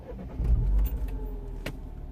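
Mini Cooper S with the N14 engine being restarted: a short cranking burst catches into a brief idle, followed by a light click, all close and fairly quiet.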